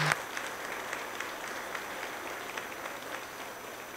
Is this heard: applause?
yes